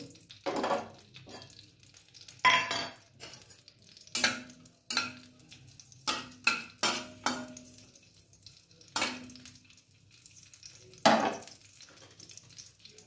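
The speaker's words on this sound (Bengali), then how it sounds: "2 চামচ ঘি দিয়ে দিলাম। এবার কাজু কিশমিশটা দিয়ে দেবো।" Cashews and raisins fry in hot ghee with a soft sizzle, as a spoon repeatedly scrapes and clinks against the pan in irregular bursts, close up and with no talking.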